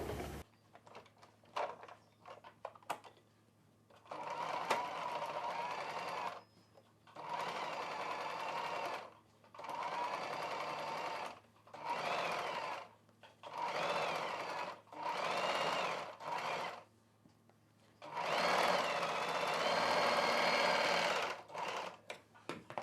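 Sewing machine stitching a puff sleeve seam on a blouse, running in repeated bursts of steady mechanical whirring separated by short pauses, close and fairly loud with light handling clicks in between.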